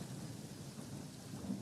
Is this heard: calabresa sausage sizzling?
no